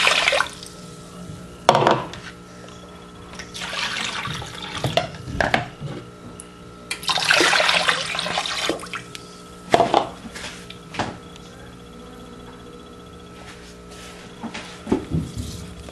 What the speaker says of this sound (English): Add 3 to 4 cups of water depending on the quantity of the